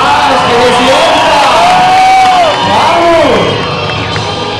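Audience at a body suspension performance show yelling and cheering loudly, a close, roaring crowd with rising whoops and shouts that swell and then taper slightly.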